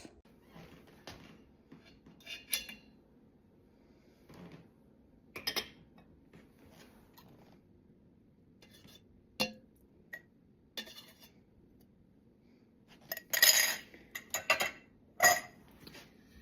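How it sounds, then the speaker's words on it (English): Skimming foam off yogurt in an Instant Pot produces sparse, light clinks and taps of a utensil against the metal pot, scattered irregularly with near-silence between, and a small cluster of brighter clinks toward the end. "So I'm going to remove the thermometer and skim this foam off."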